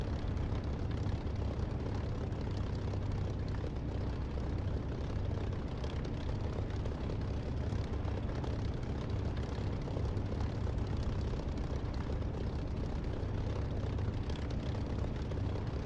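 A simulated aircraft engine runs steadily at idle while taxiing in a flight sim game, a constant loud low drone with broadband rumble and no pauses throughout.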